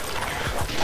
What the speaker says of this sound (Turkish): Ya bak köpek.